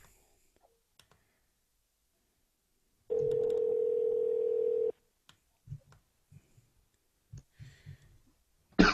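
A telephone dial tone on a radio call-in line hums steadily for about two seconds, followed by scattered faint clicks on the quiet line.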